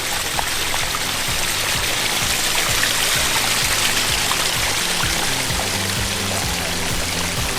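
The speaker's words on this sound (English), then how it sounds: "the sound of the waterfall" Waterfall pouring into a backyard koi pond, a steady close rush of splashing and trickling water that stays constant throughout, with no voices.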